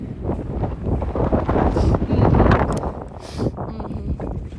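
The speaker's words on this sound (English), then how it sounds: "It's pretty windy up here." Strong wind buffets the microphone in loud, roaring gusts that swell and ease, with faint rustling underneath.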